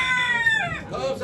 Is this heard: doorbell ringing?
no